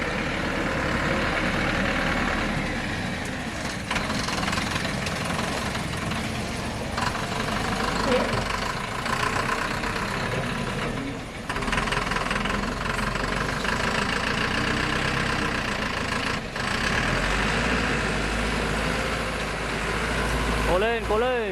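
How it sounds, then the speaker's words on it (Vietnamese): A truck engine runs as the vehicle is moved across slippery, wet ground to a loading spot, with a steady mid-pitched rumble and a few revving swells throughout. Someone talks over it. "Bây giờ tiếp tục di chuyển xe đến chỗ kia để bốc"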